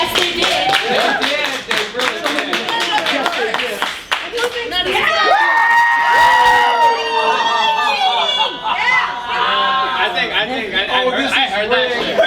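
Crowd applause and cheering at a Power Rangers After Dark fan panel: dense clapping fills the room, with whoops and shouts rising over it and people talking and laughing throughout.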